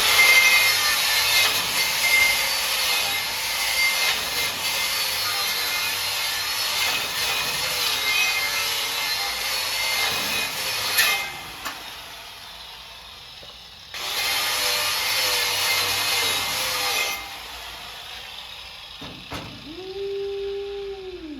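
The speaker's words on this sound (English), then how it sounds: "we're going to use this rock brush to get the slag out of here" A stiff wire brush scrubs slag off a flux-core weld bead on steel plate in a long run of rapid, raspy strokes. A second burst comes after a pause, and a brief metallic knock follows near the end.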